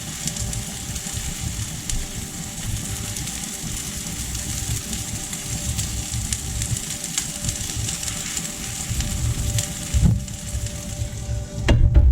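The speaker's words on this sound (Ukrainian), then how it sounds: "Готуємо під кришкою на невеликому вогні, поки яйці не зготуються." Eggs with bacon and broccoli fry under a lid on low heat, giving a steady, soft sizzle with faint crackles and a couple of brief clinks near the end.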